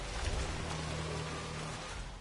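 Steady rain pours down in a video game, a dense unbroken hiss with a low rumbling undertone, even and constant from start to finish.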